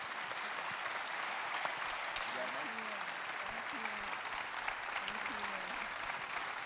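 A steady, even round of applause from a large audience welcoming a Holocaust survivor speaker, heard at a distance as a continuous dense wash, with faint tonal sounds drifting through it.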